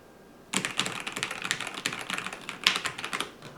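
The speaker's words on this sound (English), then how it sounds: "This is my Keychron K10 Pro, which I just purchased for the express purpose of gaming with it." A Keychron K10 Pro mechanical keyboard clacks under fast typing after a quiet start, with a busy run of crisp, close keystrokes and a few sharper hits.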